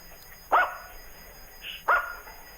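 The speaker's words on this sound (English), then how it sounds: "My dogs are taking over the show." Dogs bark twice in sharp, fairly close bursts about a second and a half apart, with a faint whimper between them over a low room hum.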